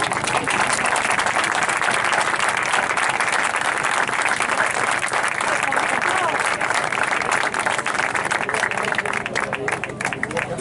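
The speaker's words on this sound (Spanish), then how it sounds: "Bien, un aplauso." An audience at a tribute to the anti-Franco guerrilla in Santa Cruz de Moya claps steadily and densely for the whole stretch, loud and sustained, with faint crowd murmur mixed in.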